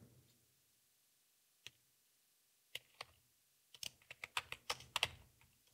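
Computer keyboard typing while coding in Unreal Engine 5: a few isolated key taps, then a quick run of crisp, close clicks toward the end in a quiet room.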